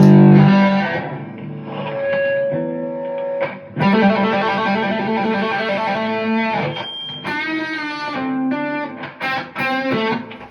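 An electric guitar through a Blackstar Amped 2 plays chords and short riffs with a thick, buzzing fuzz distortion, loud and saturated, with brief pauses between phrases.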